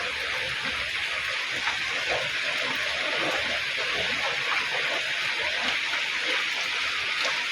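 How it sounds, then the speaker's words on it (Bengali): Steady rain falls onto surfaces and pooled water, a constant hissing patter with fine drop detail, unbroken and moderately loud with no voices. "বৃষ্টির জল।"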